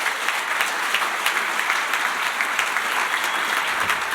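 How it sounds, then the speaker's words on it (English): A large dinner crowd at a conference gala awards night breaks into applause, a thick, even wash of many hands clapping continuously and loudly throughout, with no voices standing out. "A huge round of applause."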